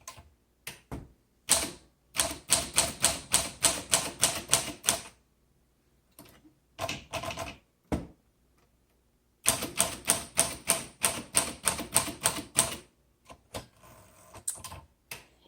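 Rapid bursts of keystrokes clack on a 1938 Corona 2C vintage typewriter with its original keys, close and loud, in two long runs broken by short pauses and a few isolated strikes.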